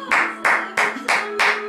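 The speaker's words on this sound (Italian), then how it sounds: "un applauso" Five sharp, evenly spaced claps ring out in a quick steady rhythm at a lively liberation celebration at a clinic, close and distinct, with no talking over them.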